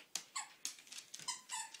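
A happy puppy with her toy duck, producing a quick series of high, thin squeaks and whimpering sounds in short irregular bursts, faint and close with quiet gaps between.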